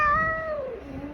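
A cat at a veterinary pet clinic in Dhaka gives a single drawn-out meow that slides downward in pitch, close and clear, with no talk over it.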